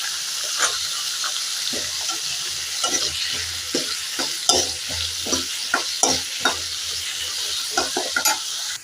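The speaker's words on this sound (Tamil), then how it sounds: "பொட்டேட்டோவும் உள்ள போட்டும் நான் வதக்கணும்" Steady sizzle of potatoes, eggplant and onion frying in a pan, with repeated scraping and clacking as they are stirred, close and continuous without talk.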